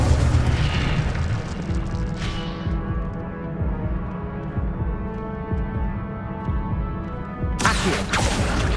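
Incendio fire spell blasts in Hogwarts Legacy: a deep boom with a sustained fiery roar, a sharp burst near the start and another loud burst near the end, over steady game ambience.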